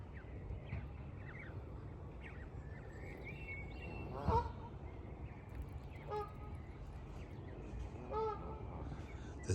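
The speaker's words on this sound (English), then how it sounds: "There's another goose" A goose honks repeatedly beside a canal, with a few fairly clear calls rising above a steady low rumble of outdoor background noise and faint bird activity.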